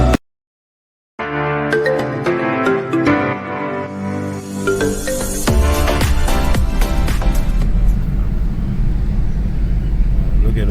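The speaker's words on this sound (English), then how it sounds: "Look at the traffic." Busy road traffic at an outdoor flea market, a steady wash of passing vehicles with engine tones rising to a louder broadband roar after a brief silent gap at the start.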